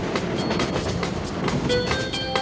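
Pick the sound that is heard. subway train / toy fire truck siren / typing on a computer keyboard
subway train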